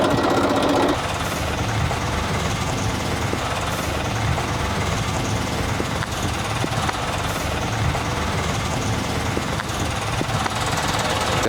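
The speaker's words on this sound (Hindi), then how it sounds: "आज़ाद जी, कभी पहले ट्राई किया आपने ट्रैक्टर में?" A tractor engine runs steadily at close range, a loud continuous rough chugging drone with a knocking, mechanical rattle that holds for the whole stretch without pause.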